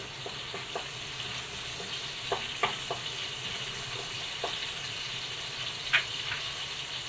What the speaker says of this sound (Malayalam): രണ്ട് ഏലക്ക ജാതിപത്രി തക്കോലം പട്ട ഗ്രാമ്പു ലേശം പെരിഞ്ചീരകം ഇട്ട് കൊടുക്കാം ഇതൊന്ന് നന്നായിട്ടൊന്ന് മൂത്ത് വരട്ടെ